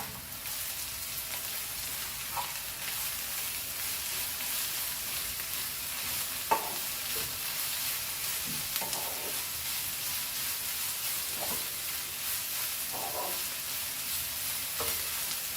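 Vegetable fried rice hisses and sizzles steadily in a wok, with occasional soft scrapes and knocks of a spatula tossing it; quiet and continuous, no talking.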